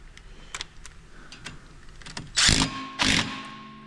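Bolts being cranked down to push the brake rotor off a 5th-generation Subaru Impreza, quiet metallic clicks and taps, then two louder bursts of ratcheting near the end.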